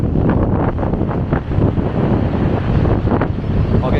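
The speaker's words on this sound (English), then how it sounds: "check out the waves here" Stormy sea waves surge and crash beneath the old Brighton Pier, a steady, loud roar of surf mixed with heavy wind buffeting the microphone throughout.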